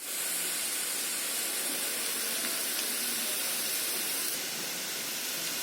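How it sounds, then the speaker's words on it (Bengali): Chopped onions fry until light red in a pan on a gas stove for a zucchini and drumstick rohu fish curry, giving a steady, even sizzling hiss that holds for several seconds with no talk. "পেঁয়াজটা হালকা লাল লাল ভাজা হয়ে গেছে"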